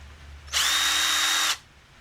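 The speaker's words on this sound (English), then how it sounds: "what's more powerful, a cordless or a corded drill?" A power drill runs in one steady, loud burst of about a second, starting and stopping abruptly over a quiet background, with no talking.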